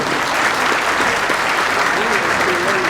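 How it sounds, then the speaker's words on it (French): A crowd applauding steadily at an opening ceremony, dense clapping that holds at an even level throughout. "Voilà, des applaudissements bien mérités pour Don Charpe de Batoro."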